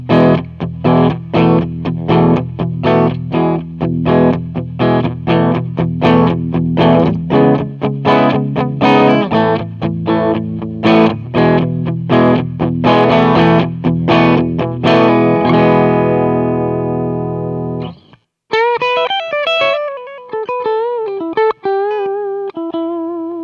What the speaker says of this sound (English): This is a light crunch. It's a Vox AC30 amp model with some compression and reverb.